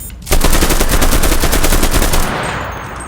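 Rapid automatic gunfire from the video game Cuisine Royale, a loud sustained burst of closely spaced shots lasting about two seconds before trailing off, with no speech.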